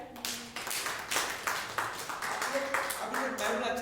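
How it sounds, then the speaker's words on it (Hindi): A congregation at a Sunday church worship service claps hands together in a brisk, fairly even rhythm, with several claps per second. The clapping sounds close and fills the room. "ताली बजाए।"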